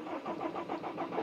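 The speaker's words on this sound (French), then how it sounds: "Il a pris un petit coup de froid le moteur." A van engine turns over with difficulty in the cold: a steady, rapid cranking pulse repeats evenly for about a second, loud and close, with no voices.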